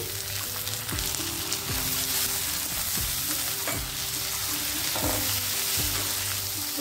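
Chopped tomato and onions fry and sizzle steadily in a hot pan, with several distinct scraping stirs of a spoon about once a second. The sound is close and even throughout, and no one speaks.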